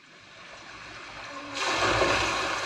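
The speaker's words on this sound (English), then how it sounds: "The microphone's really close to where the water is splashing out of the mill wheel." Rushing, splashing water from a half-inch scale model mill wheel, recorded close, swells up loud, growing into a dense broadband wash halfway through.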